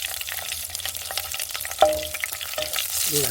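Mustard seeds and dried red chilies fry in hot oil, giving a steady close sizzle scattered with quick popping crackles as the seeds burst, with a brief clink partway through.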